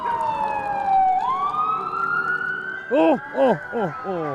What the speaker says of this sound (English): sirens break through the Appalachian air.